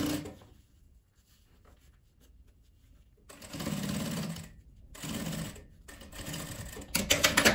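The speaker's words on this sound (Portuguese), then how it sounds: "a gente já vai fechar ela com essa costura também" Sewing machine stitching a fabric seam, running in loud close bursts after a quiet stretch, with short pauses between runs and a faster rattling burst at the end.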